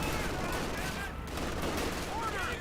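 Rifle squads and a captain trade fire with grenadiers in Company of Heroes 2, a dense, continuous crackle of small-arms shots and bursts across the whole moment, with a voice talking over it.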